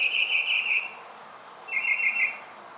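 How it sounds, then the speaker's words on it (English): Morning birdsong in Palm Springs, California, during extreme heat: two bursts of bright, whistly chirping, each about a second long, separated by a short pause, over a steady low hum of air conditioners. "The birds are really enjoying the morning."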